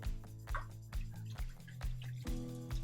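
Water is poured into a fermenting cranberry bochet, a caramelised honey mead, giving close, irregular drips and small splashes over a steady low hum, with no talking.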